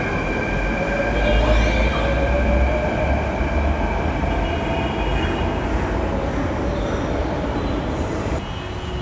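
A Mumbai Metro train rumbles close by with a steady roar, faint wheel squeal and thin electric whine riding over the low drone; no talking.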